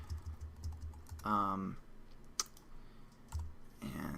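Code being typed on a computer keyboard, a quick run of light key clicks, with someone speaking a word in between and a few more scattered taps afterward.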